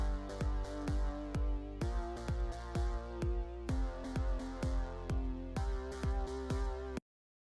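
Punchy electronic kick drum hits layered with a boomy bass line in a mix, repeating in a steady rhythmic pattern; the low end sounds thick and muddy, no voices.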